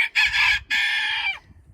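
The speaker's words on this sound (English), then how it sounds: "calmly and carefully integrate the new hen and the new rooster into the flock" A rooster crows nearby in two loud bursts, part of integrating a new hen and new rooster into a backyard chicken flock, with faint low background noise between and after the calls.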